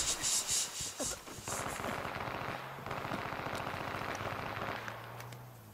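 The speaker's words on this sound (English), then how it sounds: "Keep throwing your grenades" Explosions and gunfire in an online shooter video game, a loud burst of blasts followed by sustained rapid crackling and rumbling fire, dense and continuous.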